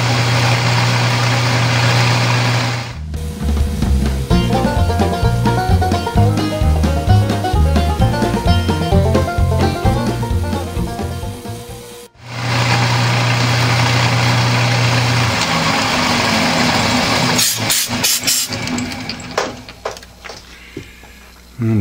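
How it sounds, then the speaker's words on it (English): A metal lathe whirs loudly while center drilling, with metallic cutting and grinding noise. It winds down and stops midway, then starts up again and runs with uneven scraping near the end. "And a quick center drill."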